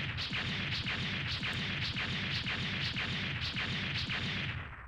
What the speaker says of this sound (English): you can listen for the explosions